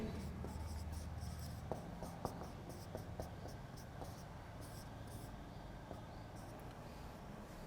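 Pen scratching out notes on paper during a chemistry class, a series of faint, quick strokes and taps spread across several seconds over quiet room hiss.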